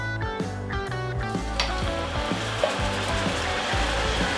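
Chopped tomatoes sizzle in a frying pan as a steady, hissing fry that keeps going under a layer of rhythmic background music.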